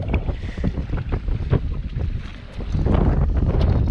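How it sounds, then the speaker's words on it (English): Strong wind buffeting the microphone while fishing from a boat for trout, a loud continuous roar with gusts that grow heavier toward the end, no talking. "this wind is driving me insane"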